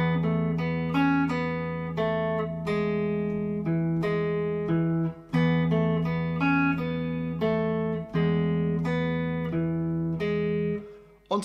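Guitar plays the first verse line of a song, a clean, steady sequence of plucked notes and chords with ringing sustain, played alone at close range until a final fading chord.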